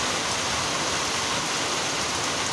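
Heavy summer downpour after a long dry spell, a dense, steady roar of rain hammering surfaces, loud and constant throughout with no voices.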